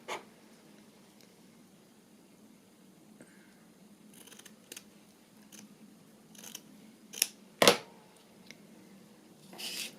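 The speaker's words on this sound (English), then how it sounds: "I just need to cut it to size." Scissors snip a small piece of paper to size in a quiet room, a few soft isolated cuts followed by a louder, sharper snip near the end.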